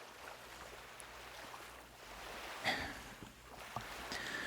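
Ocean waves at sea, heard as a faint, steady wash of surf with a slightly stronger swell rolling through near the middle, with no voices.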